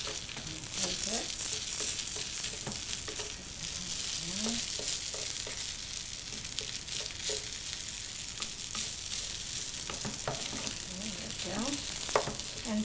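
Hash browns and eggs frying in an Xpress Redi Set Go cooking machine, giving a continuous close sizzle with light crackles and a few faint voices in the background.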